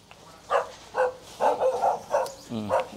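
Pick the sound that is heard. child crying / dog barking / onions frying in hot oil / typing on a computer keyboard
dog barking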